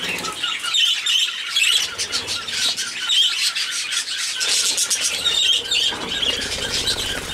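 Several pet birds squawk and screech loudly and continuously, harsh shrill calls overlapping close by with no pause.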